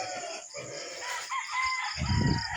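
A rooster crows close by on a farm, its long call rising and then trailing off, with a second, lower burst following near the end and no talking.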